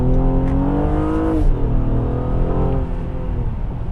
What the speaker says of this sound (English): So let's listen to this engine.